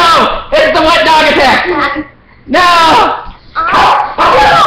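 A wet dog yips and barks in short bursts at close range indoors, mixed with a person's excited talking over it.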